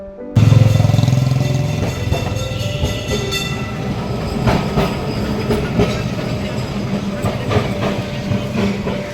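A loud Kolkata tram rumbles past on its tracks, steady rolling clatter with metallic rattles and occasional squeals, no talking.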